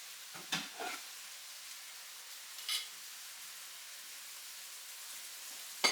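Ground beef fries in a pan for burritos, making a faint, steady sizzle with a few soft scrapes of stirring near the start, in the middle and at the end.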